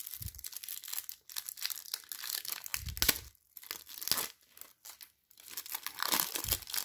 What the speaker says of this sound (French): Et on va s'ouvrir le deck tout de suite.